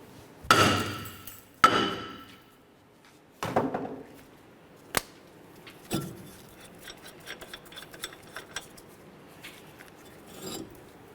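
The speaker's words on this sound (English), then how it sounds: "Let's use a hammer, and we're going to give this a loving bonk to break it free." A hammer strikes a rusted brake rotor on a 2004–2010 Chevrolet Cobalt front hub to break it loose, with several sharp metallic bangs, two loud ones early and further blows spaced out, followed by lighter clinks and rattles.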